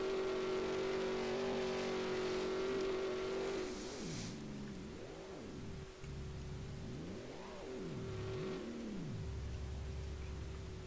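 Race car engines in a Roblox Formula racing game, a sustained high whine that gives way to rising and falling revs swooping up and down several times.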